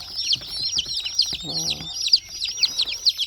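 Grown roosters raised from chicks, repeated nearby clucks and crowing calls in quick succession, with a short burst of low grunting in the middle.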